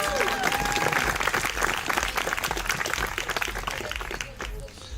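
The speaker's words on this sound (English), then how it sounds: "Guys, give him a big round of applause to Hakub" A crowd at a business gathering applauds loudly and continuously for a team member, a dense wash of clapping that holds for several seconds and then thins slightly near the end.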